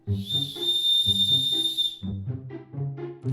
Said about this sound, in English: W for whistle.